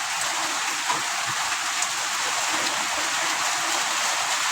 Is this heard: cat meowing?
no